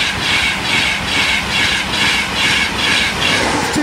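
A train rumbles past close by at Maxey Level Crossing, Cambridgeshire, its wheels clattering in a regular rhythmic beat over a loud steady roar.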